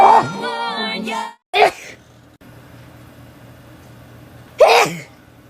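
A girl with allergies sneezes: a sharp nasal burst, then after a quiet pause another explosive sneeze near the end, close and loud, preceded by a bit of voiced breathing or vocal sound.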